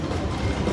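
Train sound effect from a Lightning Link slot machine, a steady rumbling rail clatter held at an even level for under a second, with no talk over it.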